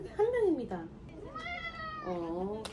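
A pet cat meows several times up close, with drawn-out, rising and falling cries separated by short pauses.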